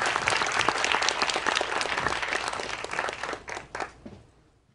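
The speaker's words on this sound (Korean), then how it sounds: "큰 박수로 맞아주시면 강연 듣겠습니다" Audience applause welcoming a guest lecturer at a networking day event: dense, steady clapping from a crowd that stays full for about four seconds, then thins and fades out.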